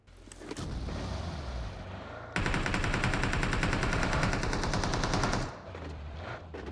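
Rapid automatic gunfire in PUBG Mobile gameplay, a loud sustained burst of fast repeating shots over a constant rumble, preceded and followed by quieter game ambience.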